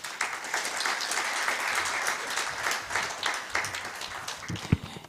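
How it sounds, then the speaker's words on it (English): A citizen assembly audience applauds steadily for several seconds, a dense wash of many hands clapping in a large room. "He deserves a better clap, really,"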